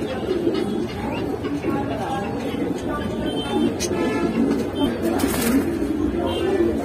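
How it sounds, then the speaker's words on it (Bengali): Racing and fancy pigeons at a seller's stall, soft throaty cooing in the background under steady conversation between men, with general crowd hubbub around. "খুবই ভালো কবুতর"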